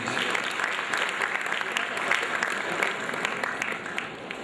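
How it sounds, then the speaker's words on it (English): Audience applause at a community gathering, a dense and steady wash of many hands clapping that holds for several seconds, with faint crowd voices mixed in. "Let's give them a big hand of applause"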